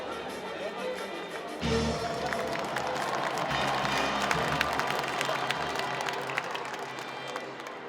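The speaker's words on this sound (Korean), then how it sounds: "큰 박수로 환영해 주시기 바랍니다." A political party convention audience applauds to welcome the party leader, a dense roar of clapping and cheering that swells suddenly after a quieter start and stays loud throughout.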